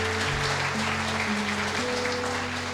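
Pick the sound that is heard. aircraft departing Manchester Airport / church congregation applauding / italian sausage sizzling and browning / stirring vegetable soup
church congregation applauding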